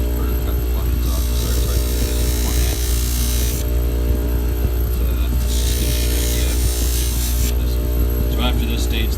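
Acrylic plastic edge being smoothed on a spinning sanding wheel while building frag racks, a steady motor drone with bursts of gritty, hissing abrasion as the piece is pressed to the wheel, close and loud throughout.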